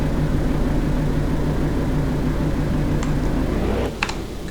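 A ship's engine drones low and steady in high gear aboard a heavy-lift vessel in the Stormworks video game, a constant rumble that dips near the end, when a few faint clicks come through.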